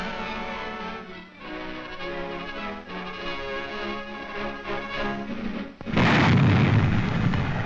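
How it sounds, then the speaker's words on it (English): Heavy coastal artillery guns fire one-ton shells toward Channel ports, a single loud deep boom bursting in near the end after a stretch of orchestral newsreel music. "the guns fired toward the Canadian troops"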